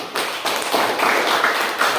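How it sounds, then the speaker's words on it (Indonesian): A classroom of students claps together in a short, dense burst of rapid claps, close and fairly loud, with no talking over it. "Oke, tepuk tangan"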